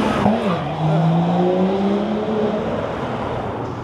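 Car with a loud aftermarket exhaust going by on a street in Norwich, a strong engine drone rising then falling in pitch as it passes close, then fading under steady traffic noise.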